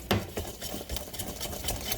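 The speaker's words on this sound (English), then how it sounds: "Whisking this on up, making a little mess." A whisk beats butter in a pot with quick, scraping, rattling metal strokes at a steady rhythm, close and moderately loud throughout.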